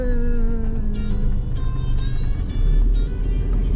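Car driving on a road, a loud steady engine and road rumble filling the cabin with harmonic tones rising and shifting as the vehicle moves, no talk.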